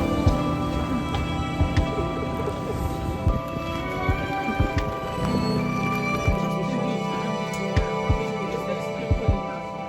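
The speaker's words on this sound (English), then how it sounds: "It is raining." City rain falls steadily in Birmingham as a dense, even hiss, with occasional soft thuds and drips standing out, under a constant background hum and faint crowd noise.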